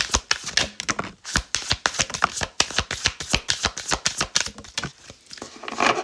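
Tarot cards being shuffled in a quick, steady run of crisp riffling and slapping snaps with no spoken voice, close and fairly loud, continuing for several seconds.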